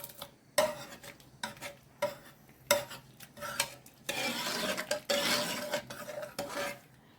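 A metal ladle scrapes and clinks around a cooking pot in repeated strokes, with a sizzling rush building in the second half, close and fairly quiet.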